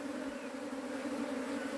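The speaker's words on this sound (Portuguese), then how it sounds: "A gente vai sacudir essas abelhas que tá aqui." A swarm of bees gathered in a shed hums in a steady, dense drone, close and continuous throughout, with no talking.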